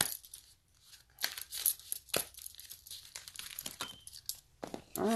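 Papery riffling and flicking of cards being shuffled close up, in irregular bursts with quiet pauses between.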